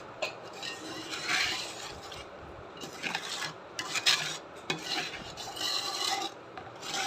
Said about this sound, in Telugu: ఆయిల్ మసాలా కారం మసాలాలు యాడ్ చేసుకొని కలుపుకోవాలి